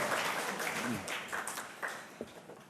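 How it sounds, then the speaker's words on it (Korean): An audience at a Korean forum on digital piracy and copyright education claps in a dense burst of applause that gradually thins out, with a few voices mixed into the crowd noise. "큰 박수 부탁드리겠습니다."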